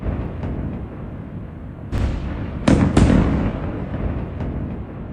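Several loud explosions from Israeli attacks in southern Lebanon go off, one blast followed by two more in quick succession, over a low rumbling background.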